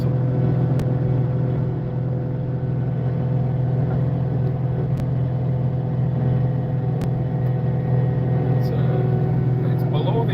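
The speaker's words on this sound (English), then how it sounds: "I think this is around 72, 74 horsepower. 4-cylinder Kubota diesel." Caterpillar 259D3 compact track loader with a 4-cylinder Kubota turbo diesel of about 72 to 74 horsepower, running at a steady idle. A close, continuous low drone with a constant hum, unchanging for the whole stretch.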